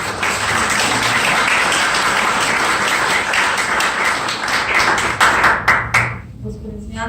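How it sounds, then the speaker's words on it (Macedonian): Audience applause at a civic initiatives memorandum signing event, sustained close clapping from a room of people that breaks into a few scattered final claps before fading. "Нема аплауз?"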